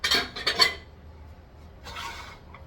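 Metal pot lid clattering against a cooking pot on the stove while Tex-Mex enchiladas with mole sauce are prepared, a few sharp close clinks early on, then a softer scraping rattle after a pause.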